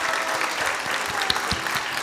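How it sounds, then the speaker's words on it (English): Dense, sustained applause from a large audience at a devotional Lila Katha gathering honoring musicians and singers, a steady wash of many hands clapping at close range with a few sharper claps standing out. "let's just show one more round of applause."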